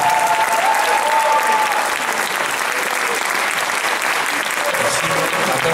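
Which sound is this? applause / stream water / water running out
applause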